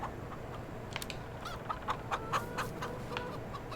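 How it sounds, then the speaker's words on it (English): A rooster in the farming game Farming Simulator 22 gives several short, faint clucks in a loose cluster over steady outdoor background noise. "Let's see, I heard the rooster."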